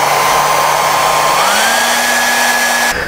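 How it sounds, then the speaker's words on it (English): A blow dryer drying freshly applied weathering on an HO scale model boxcar, a loud close continuous whirring hum that shifts pitch upward partway through, then cuts off at the end. "we're going to put our blow dryer on there and dry it off quickly"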